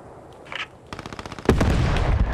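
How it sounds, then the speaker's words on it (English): Gunfire in the World War II shooter Post Scriptum, loud and close, with bursts of rapid automatic shots that end in a heavy sustained rumble of firing. "Sounds like they have an AT gun somewhere up here."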